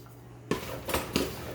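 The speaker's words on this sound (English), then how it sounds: "What you want to do is just mix it all together." Brussels sprouts being tossed with oil, black pepper and seasonings in a bowl, giving a few soft clinks and scrapes of a utensil against the dish, close and fairly quiet with no voices.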